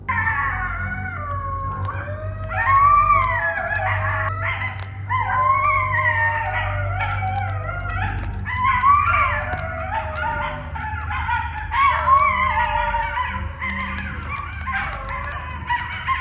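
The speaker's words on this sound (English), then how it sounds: "I guess that was a bunch of coyotes just living their best life." Several coyotes yip and howl together in the woods around a campsite at night, wavering high cries overlapping in a long chorus that rises and falls over a low steady background hum.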